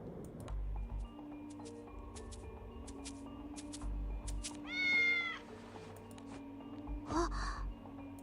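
An island cat meows in the Granblue Fantasy game, two distinct drawn-out calls over quiet background game music and faint ticking effects.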